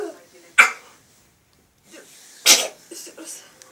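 A young boy sneezes twice, each a sharp, close burst separated by a quiet pause, with faint breathing and brief murmured sounds after the second sneeze.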